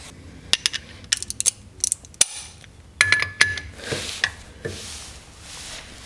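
Ratchet with a 21mm socket working a subframe mount bolt on a Mk8 GTI, with bursts of rapid metallic clicking separated by brief pauses and a few sharp clanks, close and fairly loud.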